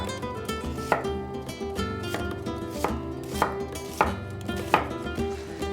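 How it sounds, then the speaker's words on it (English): A knife chops an onion on a cutting board in a home kitchen, sharp regular strokes repeating about every second, close and clear with no talking. "Chop up an onion."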